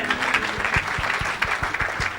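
A church congregation claps together in steady rhythmic applause at a Pentecost revival service, loud and close, with no talking over it.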